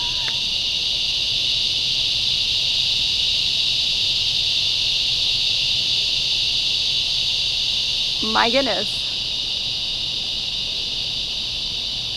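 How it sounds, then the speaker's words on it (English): Cicadas drone loudly and steadily throughout, a dense high buzzing that never lets up, with a brief human exclamation near the start and a short chirping call late in the clip. "the cicadas are coming out now"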